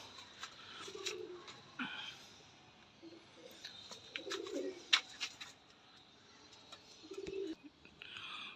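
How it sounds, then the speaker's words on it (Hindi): Salara pigeons coo softly in repeated low, throaty calls, several birds close by, with chirps and faint background noise around them. "ये देखें, सलारा कबूतर है ये"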